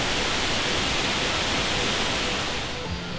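Waterfall at Doi Inthanon National Park, a steady broadband rush of falling water that stays loud and even throughout, with no voices over it.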